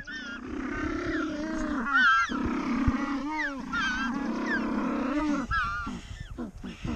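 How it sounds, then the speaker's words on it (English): Loud, braying penguin calls, apparently from a colony on a South African beach, repeating in harsh, honking bursts with rising and falling tones over a constant low background rumble, with several calls overlapping for seven seconds. "It's not really a noise I expected a penguin to make, that's for sure."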